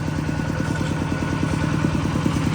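A farm tractor runs on a rural road, its engine chugging in a fast, steady low rhythm with clattering, heard fairly close and continuous without talk.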